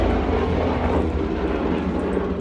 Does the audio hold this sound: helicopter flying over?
yes